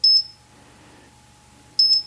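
A shadow detector gives two short, bright electronic beeps, one at the start and one near the end, each triggered as a hand passes through it, with a faint hum between.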